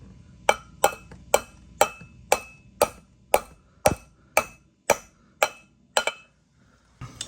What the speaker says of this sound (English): A little bit more weight of a hammer.